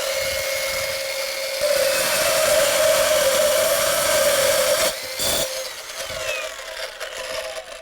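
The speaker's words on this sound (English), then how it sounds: "And you can cut rebar quick and easy with these tools." A cordless BN Products saw cutting rebar, a loud steady motor whine with a grinding metal cut building in the middle, then a brief break and the motor winding down, no talking.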